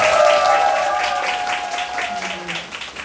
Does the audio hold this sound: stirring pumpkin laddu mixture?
no